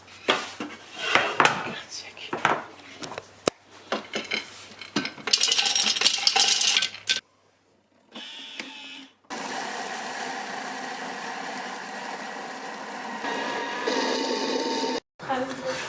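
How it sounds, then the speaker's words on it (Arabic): A Thermomix grinding almonds at maximum speed makes a steady, loud whirring roar in long continuous stretches, after short bursts of clattering and a brief pause, with a voice talking over parts of it. "ان بارلون دو تيرموميكس غادي نطحنوا دابا هاد اللعيبه هنا، اللوز غنطحنوه هنايا"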